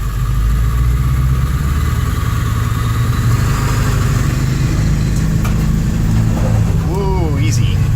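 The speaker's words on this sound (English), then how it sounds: "bad enough you can actually hear the turbo spool, which is pretty awesome" A dump truck van's engine revs hard and steadily under load, with a low rumbling drone, a rising whine from the turbo and someone talking over it.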